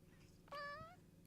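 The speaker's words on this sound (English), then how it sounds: "I hear a cat." A cat meows once, a short rising and falling call standing clearly above a faint steady hum, with quiet room noise before and after.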